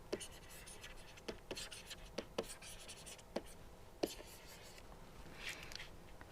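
Chalk or marker strokes on a board during a reliability lecture, quiet scratchy taps and strokes in an irregular rhythm, faint and close, with soft low speech in the room.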